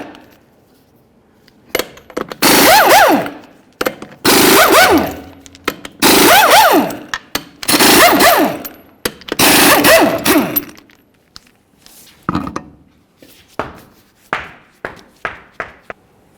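Lug nuts come off a 1999-2006 Chevrolet Silverado 1500 wheel in five loud, close bursts from a rattling impact wrench, each about a second long, followed by scattered clinks and knocks.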